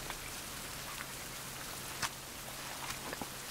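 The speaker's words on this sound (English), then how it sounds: "what do you call it? The rain." Steady rainfall in a survival video game, a dense even hiss of drops with a few slightly louder individual patters, continuous and unbroken with no voices.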